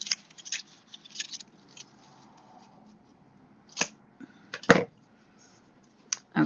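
Scissors snip through paper in a series of short, crisp cuts, some clustered and some spaced apart, close by and fairly quiet with no talking.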